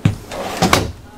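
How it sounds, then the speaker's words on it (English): A closet door in a 2024 Keystone Residence RV opens with a quick thump and a couple of light knocks and rattles, close and brief. "let's show off this closet, Brendan"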